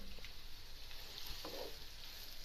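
Onions fry in half a cup of hot oil, a steady low sizzle with faint stirring, fairly quiet and with no voices.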